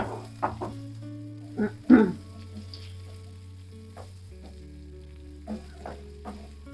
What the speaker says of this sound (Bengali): থালাটা ঘুরিয়ে না পেঁয়াজগুলো সব নাড়ো মিক্স করো